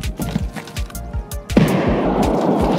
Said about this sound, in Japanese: 外でも爆発してるな。